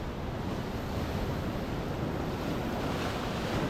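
Ocean waves crashing on the shore of Nusakambangan island, a continuous loud roar of surf with heavy wind rumble, no voices.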